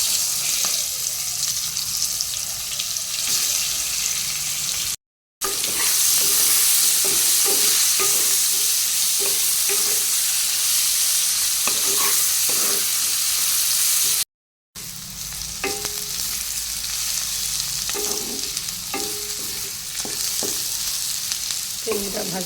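Onion with whole garam masala, including black pepper, cloves and cinnamon, fries in oil in a pan, a continuous close sizzle with scattered stirring scrapes and clicks over about twenty seconds.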